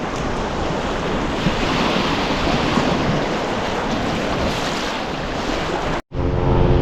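Loud, continuous rush of river water and wind buffet a kayak on the main stem of the Salmon River, a dense roar that runs steadily and then drops off abruptly near the end.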